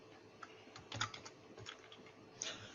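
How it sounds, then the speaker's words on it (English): A computer keyboard being typed on while writing code in the VBA editor: quiet, irregular clicking keystrokes in short bursts, close by, with no voice over them. "Then the next thing is to type the name we want to give to the folder."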